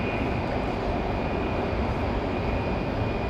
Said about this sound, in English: Got a Southwest departure.